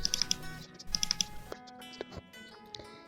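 An Aadhaar card number is typed on a computer keyboard in quick, light clicks, a few short bursts of keystrokes heard close and quietly with small pauses between them.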